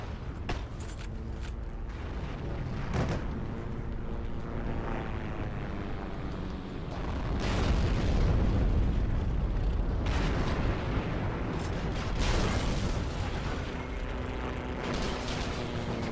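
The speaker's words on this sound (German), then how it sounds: "Und Panzer zerstört." A tank is destroyed by an explosion in the video game Heroes & Generals, a loud, rumbling blast that swells around the middle and sustains with crackling debris and further bursts, without speech.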